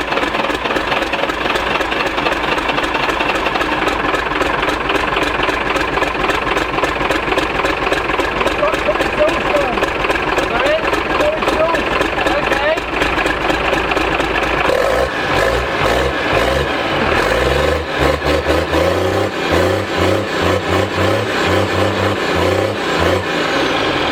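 A car engine running without its exhaust fitted clatters loudly and steadily, rough and raw at idle, its tone shifting partway through as the engine note deepens and pulses, and people can be heard talking over it.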